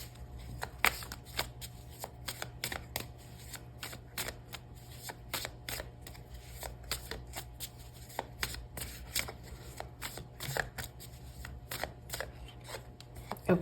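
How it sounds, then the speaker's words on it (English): Tarot cards being shuffled by hand, a long run of crisp, rapid flicks and riffles, close and fairly loud, continuing steadily with a faint hum behind. "I'm going to pull another card for the Devil"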